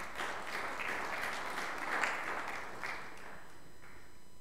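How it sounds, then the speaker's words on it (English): Church service audience applauding birthdays, a moderate, even round of clapping from a medium-sized crowd lasting a few seconds, with no talk over it. "Let's give them a round of applause."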